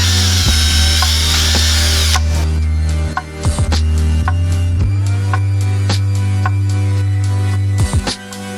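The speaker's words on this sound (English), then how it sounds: "we are gonna have to drill some holes down here so we can spot weld it to the inside fender" A power drill whines steadily through a metal fender panel on a G30 van at close range, with short pauses, clicks and clunks as the bit bites and the tool shifts.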